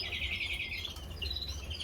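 Mealy redpolls and other breeding birds in an indoor bird room give a steady run of high chirps and tweets, close by and fairly quiet over a low background hum.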